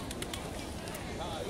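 Pigeons coo softly at the Batu Caves temple site, a faint murmur beneath steady crowd noise and general bustle, with a few short bright chirps near the start.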